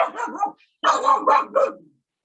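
A dog barks close by, first in a quick ragged burst, then after a brief pause in three sharp barks that trail off.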